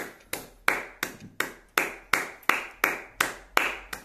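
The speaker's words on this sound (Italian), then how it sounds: "Ma non posso far altro che applaudire." One person claps sarcastically, giving about eleven slow, sharp hand claps at an even, deliberate pace. Each clap is close and distinct, with brief silence between them.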